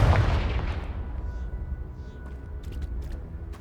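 The Confringo fire spell explodes in Hogwarts Legacy, a single loud, deep boom at the start that decays into a long rumbling tail with faint crackles.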